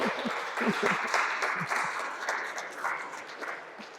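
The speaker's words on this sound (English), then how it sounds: "Yes, please applaud." An audience applauds at a stand-up comedy evening at the Hunter Museum, a steady wash of clapping that slowly fades over a few seconds, with some low voices mixed in.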